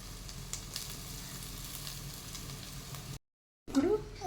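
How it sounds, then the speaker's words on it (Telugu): Rice being mixed into noodle masala in a hot pan, with a steady low sizzle and soft stirring for about three seconds, a brief silent cut, then a louder clatter of the spoon against the pan. "రైస్ వేసుకున్నాక స్టవ్ ఆఫ్ చేసి కిందికి దించుకొని బాగా మిక్స్ చేసుకోవాలి"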